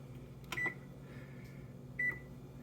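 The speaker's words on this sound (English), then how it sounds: "So here is my Whirlpool oven." A Whirlpool oven hums quietly, and two short electronic beeps sound about one and a half seconds apart. A faint tone lingers between them, with no speech.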